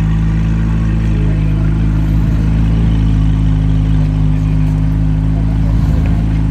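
A car with a modified exhaust sits idling at a cars and coffee meet, a deep steady rumble that holds loud and close throughout without revs.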